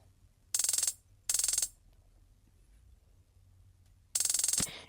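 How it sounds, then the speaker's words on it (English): A trap-beat hi-hat sample plays alone as three short bright bursts of rapid, evenly rolling ticks, with quiet gaps between the first two and the last. "it sounds like just any type of 16 note rolling hi-hat"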